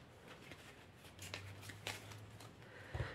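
Osho Zen tarot cards are shuffled quietly in the hands, with soft repeated riffling and flicking sounds at close range and a few light taps near the end.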